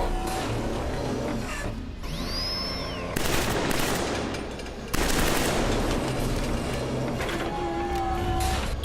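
Automatic rifle fire in Killzone 3 while shooting from cover, long sustained bursts of rapid shots with pauses between, loud and close, with whooshing game effects in the gaps.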